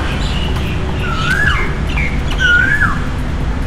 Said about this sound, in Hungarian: mert itt a kis kedvenc madarunknak volt a hangja éppen